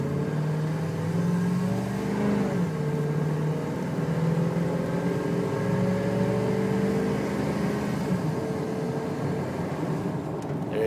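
A 1993 Chevrolet Silverado 4x4 pulls away from a standing start, its engine drone rising steadily in pitch through the gears, heard loud and continuous from inside the truck with steady road noise underneath.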